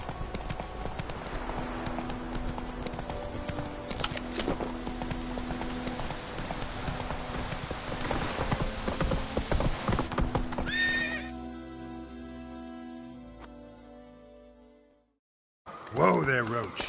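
Roach the horse gallops in The Witcher 3 with steady hoofbeats under game music, then neighs and slows as the music drops out, followed by a short burst of noise at the end.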